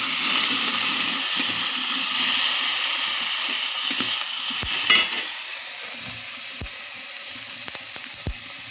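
Green chillies and tomatoes fry on a clay stove, giving a steady close sizzle and hiss throughout, broken by a few brief clinks and stirring scrapes.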